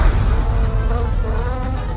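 A bee buzzes loudly in a video game, a close, continuous wavering drone of flight that fills the short moment without talk.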